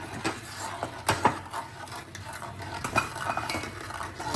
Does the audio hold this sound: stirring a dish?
yes